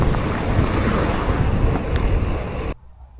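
Strong wind buffets the microphone in a continuous roar while cycling into a headwind, then cuts off abruptly near the end.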